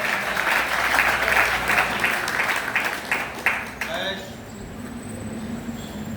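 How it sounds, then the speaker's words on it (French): A church congregation applauds during a worship service, rhythmic clapping under a voice that carries for about four seconds, then fades into quieter room noise. "On peut applaudir le Seigneur ce matin, frère et sœur."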